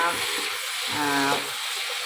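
Fried capsicum tossed into a hot, sizzling pan: a continuous close, bright frying hiss that swells briefly as the pieces go in, with no voices.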